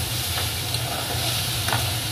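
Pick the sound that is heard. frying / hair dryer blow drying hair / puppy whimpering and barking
frying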